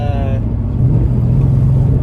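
A red 1993 Ford Mustang LX Foxbody hatchback with a Gen 1 Coyote V8, long-tube headers, V-band joints and a catless 3-inch exhaust idles loud and close with a deep steady burble; a brief whining tone fades out at the start.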